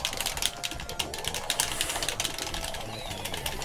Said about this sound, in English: Yeah, clicking noises. Clicking noises don't count.